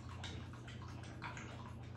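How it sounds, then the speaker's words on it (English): A dog laps from its water dish in steady, wet slurping pulses, close and fairly quiet over a low background hum. "that noise you hear is Darwin drinking out of his water dish like a camel"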